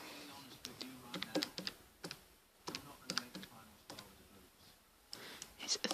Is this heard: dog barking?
no